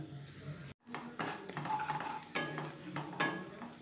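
Spices and salt are stirred into giant freshwater prawns in a pan, producing scraping and clattering against the metal with a light sizzle underneath, the irregular strokes continuing throughout after a short pause near the start.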